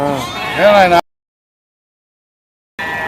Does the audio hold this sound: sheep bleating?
yes